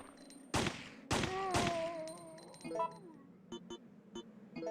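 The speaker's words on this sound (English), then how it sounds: "Let's shoot his kneecaps out." Gunfire in the PS1 survival horror game Resident Evil 3: Nemesis comes as several loud, sharp shots spaced apart. Ringing tonal game effects and a few short clicks follow, and no one speaks.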